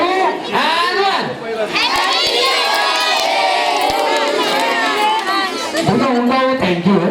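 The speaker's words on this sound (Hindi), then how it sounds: "ओके इतना जोर का आपको चिल्ला के बोलना है।" A group of children at a birthday party shout loudly together after a countdown, a sustained, dense roar of many young voices lasting several seconds, close and very loud.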